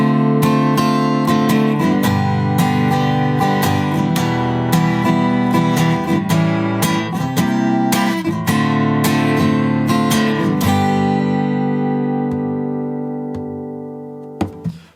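A guitar plays an instrumental interlude from a song, strummed chords ringing steadily with percussive accents, then decaying into a fading final chord and near silence.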